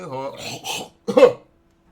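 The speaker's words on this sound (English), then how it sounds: "I had a really weird cough" A single short, harsh cough bursts out after a few seconds of a voice, then silence follows.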